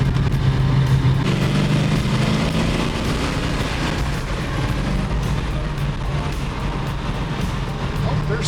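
An aircraft engine running unevenly and misfiring on its first flight, a steady loud drone with a rough, wavering tone that holds across the whole stretch.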